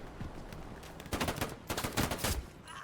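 Gunfire in a team shooter match: rapid bursts of shots, ten or so in quick succession, loud and close, in two clusters.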